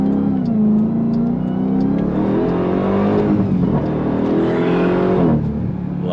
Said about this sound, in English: once you get on throttle and they hear that sound and they see just how fast this thing moves